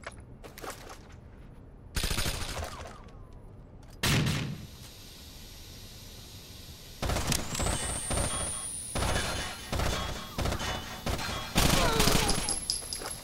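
Turret gun fire in the shooter game Rainbow Six Vegas, during a theater stage shootout: loud sustained bursts of rapid automatic shots broken by brief pauses, with heavier rattling volleys toward the end.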